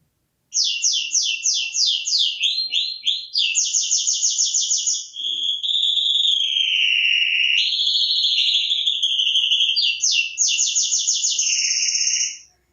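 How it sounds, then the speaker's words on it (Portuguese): Clear, loud bird song repeats in trilled, whistling phrases, rising and falling, with no other sounds around it. "Vamos ouvir um pouco dos passarinhos que eu encontrei por lá quando eu fui?"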